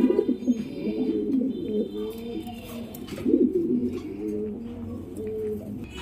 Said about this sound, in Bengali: ও দেখেন দেখেন ফুল অ্যাক্টিভ কবুতর, এটা মাদি কবুতর, এটা নর কবুতর